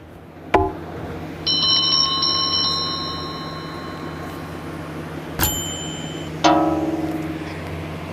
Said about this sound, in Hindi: अब सुनिए बेल की आवाज़